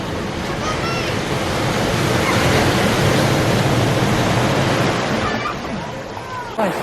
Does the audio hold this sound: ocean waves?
yes